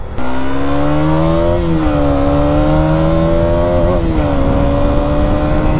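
A motorcycle engine roars steadily and loudly, its pitch climbing and dipping slightly as it revs, with no voices.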